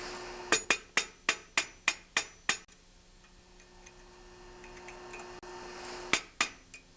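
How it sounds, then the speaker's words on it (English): A hammer taps a flat screwdriver against a snowblower muffler bolt in a run of about eight sharp, evenly spaced metallic strikes. A quiet pause follows, then two more taps ring out close and clear with no talking. "just grab a flat screwdriver, preferably an old screwdriver, and then with the hammer, just tap it out"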